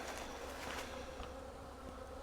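Honey bees buzz steadily around a swarm trap outdoors, a dense continuous hum with no talking, close and fairly even in level throughout.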